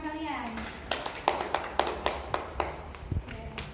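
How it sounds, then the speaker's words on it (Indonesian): A classroom of students applauds a classmate with a brief burst of sharp, irregular claps that thin out into a few scattered taps, mixed with background chatter and voices. "beri tepuk tangan untuk teman kalian"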